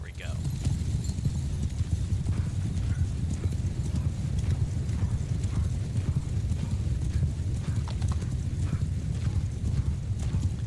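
Horses gallop in a video game cavalry charge across snowy steppes, a dense, continuous clatter of many hooves thundering close and loud for the whole stretch, with a faint whinny early on.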